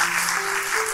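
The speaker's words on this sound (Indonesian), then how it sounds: "Tepuk tangannya yang paling meriah buat Tuhan kita." A church congregation applauds during a worship service, a steady wash of many hands clapping at once, loud and close through the short moment.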